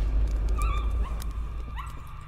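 Short yips and whines from a dog in the Layers of Fear video game, a handful of brief calls over a low droning background, fairly close and moderately loud, no voices.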